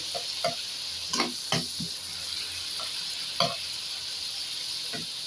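Ingredients for fried rice frying in a pan, a steady close sizzle broken by sharp ticks and scrapes of stirring, with no talking.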